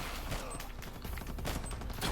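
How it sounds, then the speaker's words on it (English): Minigun fire in the video game R.I.P.D.: The Game, a dense, continuous roar of rapid shots running unbroken for the whole stretch at steady, loud level with no pauses. "Minigun."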